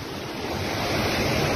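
Floodwater from a flow of about 600,000 cusecs roars down the river at Jamshoro near Hyderabad in Pakistan, a steady, dense rushing wash that swells slightly louder over the short stretch, with no voices.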